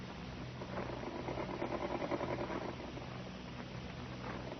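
A sewing machine runs in short bursts, its faint mechanical whir rising, dropping away and starting again, heard alone on an old, muffled radio-drama recording.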